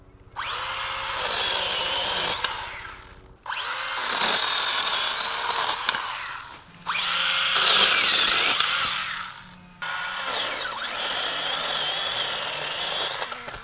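A Stihl GTA26 cordless pruner cuts through branches in four bursts, each a loud, close buzzing whine of the chain lasting a few seconds, separated by brief pauses.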